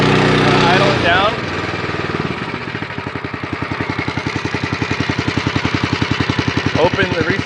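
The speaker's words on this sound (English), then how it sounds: "make sure it idles for about 10 to 20 seconds before you cut it off." A fire rescue truck's pump engine drops from higher revs to a steady, loud idle, its low rhythmic chugging pulsing evenly and close by for several seconds, with a brief higher mechanical whine near the start and end.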